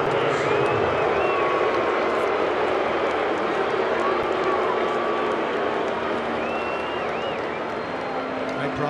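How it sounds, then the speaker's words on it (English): A road crowd of baseball fans in Atlanta boos Bryce Harper, a steady, sustained mass of crowd noise filling the stadium while a commentator talks over it. "Greatest sign of respect for a player, booed loudly on the road."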